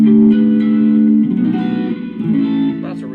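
Guitar played through a Flamma FX10 headphone amp with heavy reverb, sustained chords ringing with a washy tail and changing once or twice.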